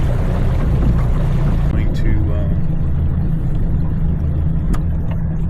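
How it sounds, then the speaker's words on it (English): A boat motor on a 22 Maverick runs steadily through a test, a constant low rumble with water noise, while a person talks briefly over it. "The motor that we installed on the last video, we're going to make sure that that's working."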